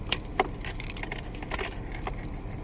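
A bunch of house and car keys jangles close up, bright metallic clinks and rattles repeating over about two and a half seconds, with sharper hits near the start.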